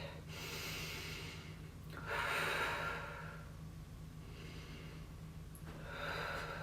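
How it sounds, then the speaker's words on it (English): A slow, deep breath drawn in and let out during a seated chair yoga class, with three or four soft, airy breathing swells near the microphone and no talking. "And we take a deep breath."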